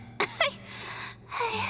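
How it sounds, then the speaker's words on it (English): A character in the video game Genshin Impact gives two quick dry coughs, close and clear, followed by a low murmur of voice. "How long have you had that cough,"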